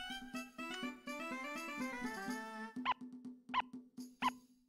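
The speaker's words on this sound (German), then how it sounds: "Das klingt wie ein Welpe." The floor-wiping effect in the Suikoden II video game plays as a run of soft, wavering tones, then three short, squeaky whimpers like a puppy, clear and evenly spaced.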